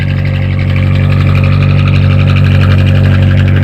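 A boat engine runs loud and steady with its exhaust now flowing, a continuous close droning rumble with no talk over it.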